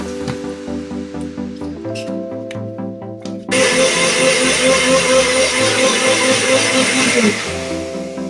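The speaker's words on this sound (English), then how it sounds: "just pour it back in, and I'm gonna blend it" Countertop blender running on beets, ginger and carrot for a Jamaican-style juice, a steady loud whir that surges louder partway through, then eases slightly near the end, with no talking.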